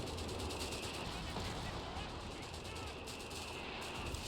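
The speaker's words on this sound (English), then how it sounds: "Continuously barraging this command bunker." Artillery barrage from a Bishop self-propelled gun in Company of Heroes 3, a 4v4 match on Oasis Depot, with dense, continuous rumbling gunfire and blasts layered into a busy battle soundscape that runs steadily throughout.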